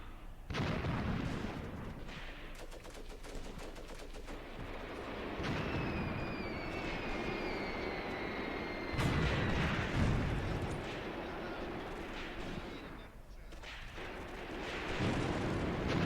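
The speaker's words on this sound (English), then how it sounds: "I wonder which of my mortars are firing." Mortar fire in the war game Graviteam Tactics: heavy, rumbling blasts and booms roll in several bursts across a dense battlefield din, with a whistling shell streak partway through and no talk over it.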